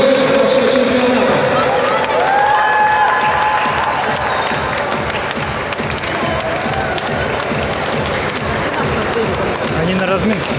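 Steady applause and crowd noise fill an arena at a school and junior boxing championship in Estonia as the boxers come out, continuous clapping mixed with someone speaking over a loudspeaker.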